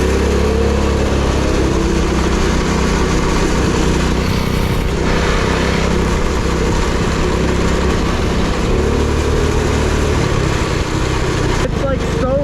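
A Predator 212cc engine mounted directly on a go-kart frame runs loud and close with a continuous, vibrating drone that shifts slightly in pitch, and brief speech breaks in over it.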